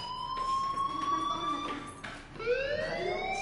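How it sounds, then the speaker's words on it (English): In the video game Life is Strange, a fire alarm blares as a sustained electronic tone that slides gradually upward, then cuts and restarts with a rising sweep, loud and steady. "Hey, do you hear that fire alarm?"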